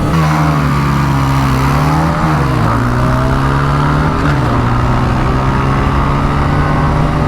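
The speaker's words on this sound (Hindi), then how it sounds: "चौथा गियर मैंने डाल दिया इसका, बट N160 बहुत तेज निकल रही है" Bajaj Pulsar N160 motorcycle accelerating hard in a single-seat drag race, its loud engine note climbing steadily through the gears with brief dips at each shift, continuous and close with no talk.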